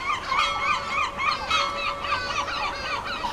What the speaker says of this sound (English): the soothing sound of a screaming seagull trying to nick me chips